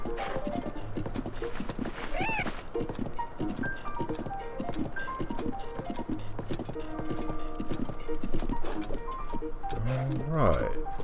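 In the video game Tears of the Kingdom, the horse Roach gallops with rhythmic clip-clop hoofbeats and an occasional whinny, heard moderately close beneath a player talking.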